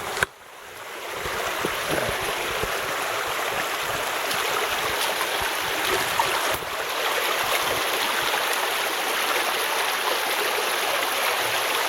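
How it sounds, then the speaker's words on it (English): Steady creek water pours over a small waterfall held back by a homemade dam, a continuous close rushing wash with no talking. "There's the waterfall."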